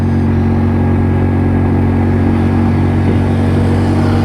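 An AJS Modena scooter climbs a hill under power, its engine giving a loud, steady, droning hum with a constant pitch and no voices.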